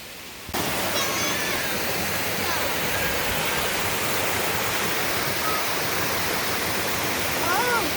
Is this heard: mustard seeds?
no